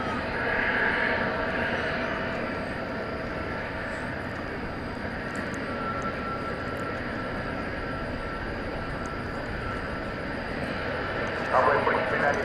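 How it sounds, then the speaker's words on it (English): A Frontier Airlines Airbus A320neo at DFW Airport gives a steady, continuous jet engine roar at moderate distance, with faint radio chatter and someone talking over it. "That'll be followed by Frontier Flight 3999 to San Francisco"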